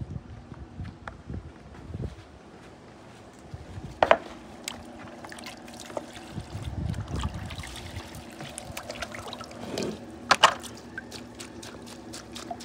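Lettuce is washed under running water in a kitchen while preparing a beef salpicón salad. The water trickles and splashes unevenly, with occasional louder clatters and gushes and no talking.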